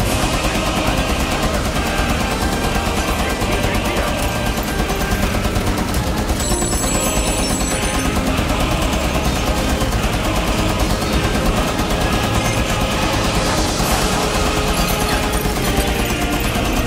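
A mounted machine gun fires a dense, unbroken stream of loud rounds in Rainbow Six Siege, layered over constant battle noise with no pauses.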